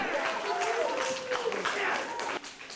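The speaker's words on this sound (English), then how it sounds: "the parents of Dear and Dee embrace upon hearing the decision, and neighbors cheer" Neighbors cheer and shout in a steady, dense crowd roar after a guilty verdict in a deliberate homicide trial in Missoula, with voices mixed in throughout before it dips near the end.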